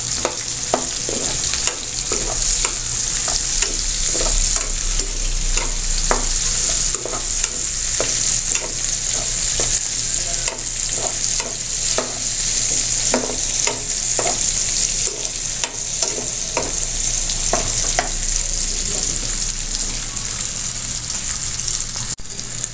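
Chopped onion sautés in a hot pan, hissing and sizzling steadily while a utensil stirs it with repeated scraping and clinking strokes throughout, close up and with no talking.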